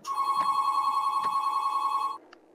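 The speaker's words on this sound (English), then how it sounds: "Let's wait for the phone to be done ringing, because they're usually just telemarketers." A telephone rings in a single long, steady electronic tone lasting about two seconds, loud and close, then cuts off into near silence.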